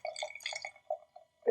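A hard strawberry and lime flavoured drink glugs out of a container in a series of uneven liquid splashes and gurgles that slow to a few last drips, ending in a louder clunk.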